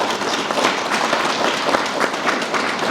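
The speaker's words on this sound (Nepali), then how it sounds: "यहाँहरू समक्ष पेश गरिएको उक्त प्रस्तावलाई ताली बजाएर पारित गरिदिन हार्दिक" Attendees at an annual general meeting applauding to approve a proposal, steady close clapping from a crowd, continuous throughout.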